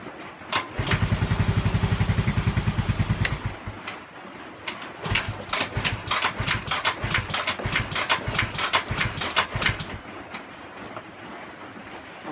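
Yamaha Mio M3 scooter engine is started: a steady low cranking drone for a few seconds, then the small engine catches with loud, uneven popping bursts and a rattling idle close by, with no talk.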